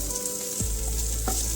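Surmai fish sizzles as it fries in a pan, a dense continuous crackle up close, broken by a couple of short sliding scrapes as the pieces are moved.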